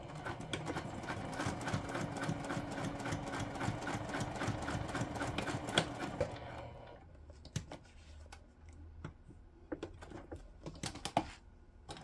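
Sewing machine stitching steadily for about six seconds, a fast, even mechanical chatter heard close and quietly, then stopping and leaving a few scattered small clicks and handling noises.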